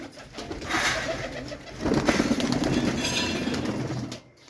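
Several pigeons coo nearby in a continuous throaty chorus against a noisy, rumbling background.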